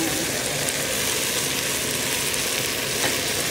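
Okra and dried danggit fish sizzle loudly in a pan as soy sauce goes in, making a dense, steady hiss close by, with faint stirring scrapes underneath.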